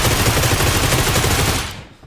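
Loud, rapid automatic AK rifle fire in a battle royale shooter game, a dense unbroken burst up close that fades out in the final half second.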